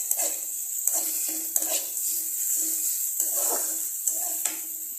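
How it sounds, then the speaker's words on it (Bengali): Onions fry in a pan over medium heat with a steady sizzle, while a utensil stirs and scrapes against the pan in repeated short strokes, close and clear with no talking. "এখন আঁচটাকে মিডিয়ামে দিয়ে দিতে হবে, তাহলে পেঁয়াজটা একটু ভাজা হবে।"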